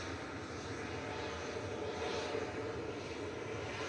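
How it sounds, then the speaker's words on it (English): Malta Air Boeing 737-800 departing from Manchester Airport, a steady, fairly distant jet roar that holds evenly throughout with no pauses or voices. "9HQAY departing now, operated by Malta Air with flight 5476 to Verona 737-800"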